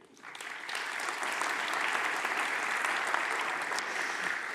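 Conference crowd at a commercial and financing meeting applauding a panel member as introductions continue, the clapping swelling quickly from a soft start into sustained, even applause.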